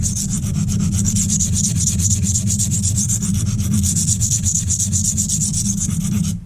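Silicon carbide sharpening stone being flattened with light pressure, a close continuous gritty rubbing with a fast pulsing back-and-forth texture, alone and steady.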